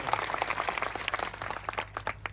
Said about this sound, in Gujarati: એમના માટે પણ જોરદાર તાળીઓ પાડી લો